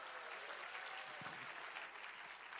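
A church congregation at a prayer meeting applauds, a faint, steady wash of many hands clapping at a distance throughout.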